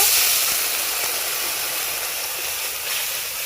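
Water poured into a pan of hot spices with chilli powder and turmeric gives a steady, loud steaming hiss that fades slightly over a few seconds, with no talking.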